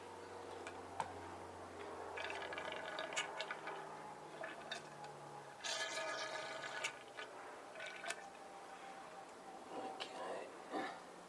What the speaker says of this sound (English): So I'll pour the fluid out, and then I'll pump the rod up and down again.